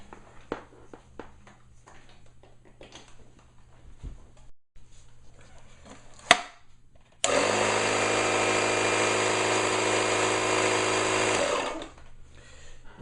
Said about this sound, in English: My greatest problem with this type of compressor is it is incredibly loud and it doesn't fill up the tank fast enough.